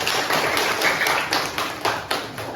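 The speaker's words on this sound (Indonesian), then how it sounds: "Tepuk tangan semuanya." Children in a primary school classroom clap together in several uneven bursts, with the claps near and fairly loud. Distinct individual hits stand out within the group clapping, and no talking is heard.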